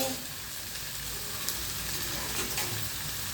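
Onions sizzle in oil in a pan for mutton curry, a dense steady crackle with a few sharper scrapes from stirring, heard up close without speech.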